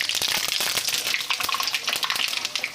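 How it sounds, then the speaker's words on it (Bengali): Whole garam masala spices fry in hot oil in a kadai, giving a dense, close, steady sizzle with rapid crackling pops throughout and no voices. "তেল দেওয়ার পর গোটা গরম মশলাটা দিয়ে দিচ্ছি"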